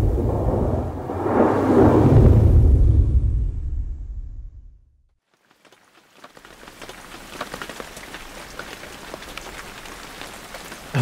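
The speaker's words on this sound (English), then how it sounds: "The weather report here is that the storm is here." Steady rain from a winter storm pattering on surfaces during a New Zealand stag hunt, a loud rumbling surge of storm noise fading to near silence before the rain resumes as a continuous hiss.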